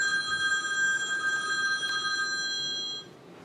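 A telephone rings in a theater audience before a show, a steady, bright electronic trill that continues for about three seconds before cutting off, leaving quiet room noise.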